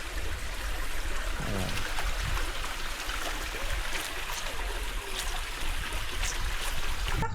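A small village stream in Nabasagan, Burias, Masbate, where people do laundry, flows with a constant close rush and trickle. Faint voices and scattered splashes sit under it.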